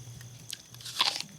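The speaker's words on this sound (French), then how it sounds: "Elle croque une pomme qu'elle a fait apparaître dans sa main." Someone biting crunchily into an apple, a few crisp, close crackling crunches bunched near the end against a quiet background, with no talking.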